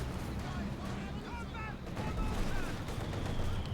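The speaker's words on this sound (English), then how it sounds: "Heavy mortar hit there, obliterate several Obersoldat members there" Heavy mortar shell strikes in a Company of Heroes 2 battle, dense booming impacts and gunfire rumbling continuously, with a louder surge of blasts partway through.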